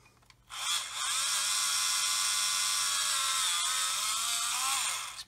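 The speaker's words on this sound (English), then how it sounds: "and the drill is struggling." A power drill whines steadily at high pitch for several seconds, boring through a solid model ship hull and clogging, its tone sagging slightly under load before spinning down at the end.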